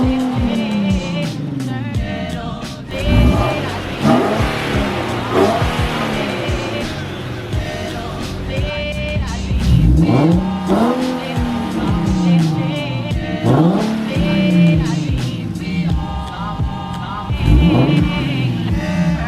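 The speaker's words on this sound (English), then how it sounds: "we're going to drop the car back down and we can do the sound test" A modified exhaust on an Infiniti Q50 sounds off as the engine is revved several times, with loud rising and falling swells over a rumbling idle, heard up close.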